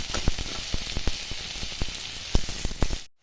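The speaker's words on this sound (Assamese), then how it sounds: "পিঁয়াজখিনি অকণমান ৰংচোৱা হোৱালৈকে ভাজি ল'ম।" Onions and green chillies fry in hot oil, a steady close sizzle punctuated by sharp crackling pops and spatters, ending in abrupt silence.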